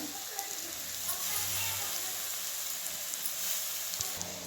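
Soaked moth bean dal hitting a hot pan in a cabbage stir-fry, giving a soft steady sizzle with faint crackles, low and close, with a little speech over it.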